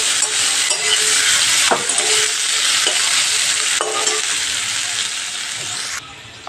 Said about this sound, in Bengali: পেঁয়াজগুলো দিয়ে একটু নেড়ে নেব